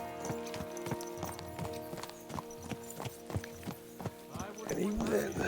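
Horse hooves in Kingdom Come: Deliverance 2 clip-clop in a brisk, regular rhythm on the road, joined near the end by louder rustling and clatter, with a voice murmuring faintly underneath.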